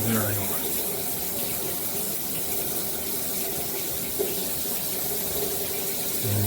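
Water pours steadily from a 12-inch 304 stainless steel rain shower head, a continuous broadband hiss and splash, close and fairly even throughout.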